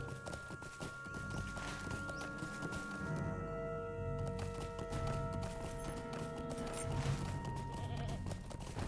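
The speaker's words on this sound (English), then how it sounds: "Let's go ahead and mount up on my horse again." A horse in the video game LOTRO whinnies clearly in the middle of the clip, over a steady clip-clop of hooves and faint ambient game sounds.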